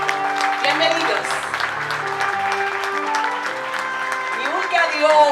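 Applause for the men at a church tea gathering rolls steadily throughout, mixed with shouts and cheers, with a voice speaking over it and a music backing playing underneath.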